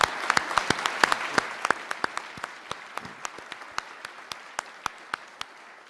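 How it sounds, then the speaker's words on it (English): Applause for a band at a commemoration ceremony, a handful of people clapping in distinct sharp claps that start dense and thin out into a few scattered claps as it fades. "So let's have a round of applause."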